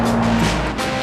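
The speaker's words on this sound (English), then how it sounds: "friction tester Ray Unger does the skidding for a living" An airport friction testing vehicle brakes hard, its tires skidding and squealing loudly with a dense, sustained scrub along with engine noise, easing slightly near the end.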